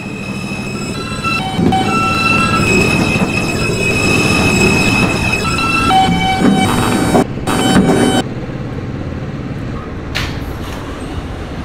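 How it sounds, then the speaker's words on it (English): A Subtransport 7 line express subway train runs loudly up close, with steady rumbling wheels, squealing and whining tones, and a brief pause near the end as the noise shifts. "This is a tropical terminal bound 7 express train"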